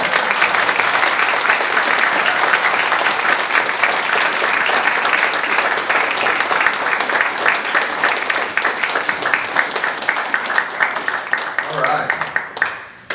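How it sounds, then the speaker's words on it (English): Loud, sustained applause fills a parish meeting hall for award recipients, with voices and cheers underneath, continuing strongly before tapering off at the end. "So let's give them a big round of applause."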